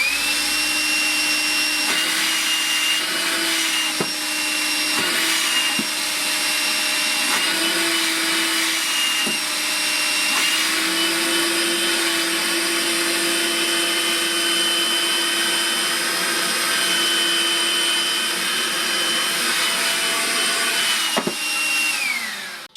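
A Makita 18V cordless stick vacuum runs with its Cyclone attachment fitted, a steady close whine held for about twenty seconds with brief handling knocks and a drop in pitch near the end.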